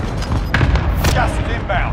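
Heavy in-game cluster strike explosions rumble and thud in a dense, continuous low barrage, with sharper bursts around the middle, while players talk over the action.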